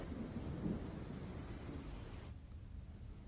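Heavy monsoon downpour in Chirmiri, India, flooding the road, with thunder rumbling: a dense, steady roar of rain and low rolling rumble that eases slightly toward the end, with no voices.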